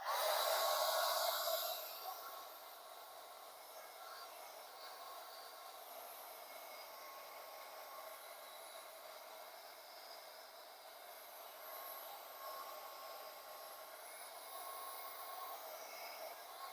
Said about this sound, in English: I'm also going to turn on my heat gun and dry it out a little bit